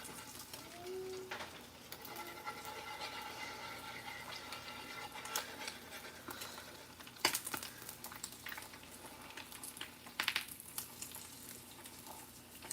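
Eggs fry in a pan at home at breakfast, a quiet continuous sizzle with scattered crackles and pops, occasional sharper clinks of utensils, and soft bird calls in the background.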